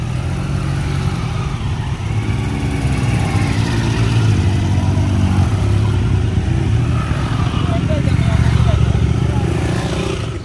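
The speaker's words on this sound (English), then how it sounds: "as you can hear in the background, all these bikers have been here since morning on different kinds of bikes" Motorcycles of different kinds circulate on a race track, a steady engine drone with rising and falling revs running throughout, mostly in the background beneath continuous talking.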